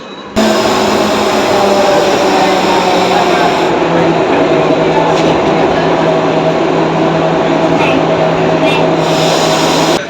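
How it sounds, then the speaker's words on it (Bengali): A metro train at Kalighat metro station in Kolkata gives a loud, steady rumbling roar with a sustained mechanical drone that starts abruptly and carries on throughout, close and continuous. "আগে মেট্রো ধরবো কালীঘাট মেট্রো স্টেশনে পৌঁছাবো"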